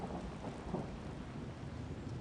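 A thunderstorm in the farming video game Wylde Flowers gives a low, continuous rumble of thunder blended with steady rain hiss, quiet and unbroken, with no voices.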